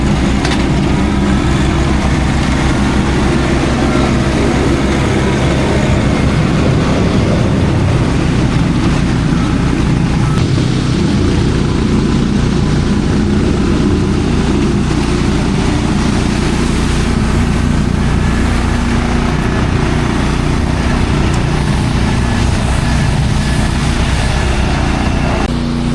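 A skid steer loader's engine idles steadily during flood cleanup, a continuous low mechanical drone that stays loud and even throughout with no talk.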